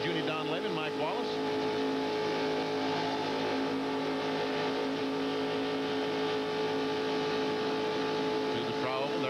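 NASCAR Winston Cup stock cars roar around the track at the 1994 Pepsi 400 in a continuous loud engine drone with rising and falling revs, while a commentator talks over it.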